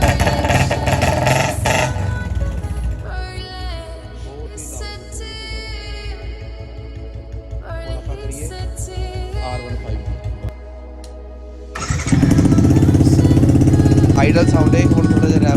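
A motorcycle with a full exhaust system idles in a steady, loud, rapid thumping pulse for about ten seconds, then drops off. A heavier engine roar cuts in near the end, and speech is heard at the start.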